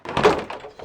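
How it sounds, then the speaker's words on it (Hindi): A single heavy thud against a door in a Hindi CID crime drama scene, close and loud, a brief dull knock that fades quickly. "दरवाजा खोलो अंजलि"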